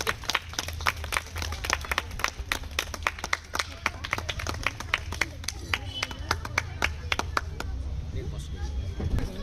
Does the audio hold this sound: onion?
no